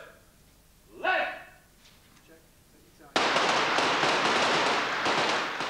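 Police firearms training at a national firearms training centre in West Yorkshire, Britain: a single shouted command, then an abrupt, loud, close burst of gunfire that keeps crackling densely and steadily to the end.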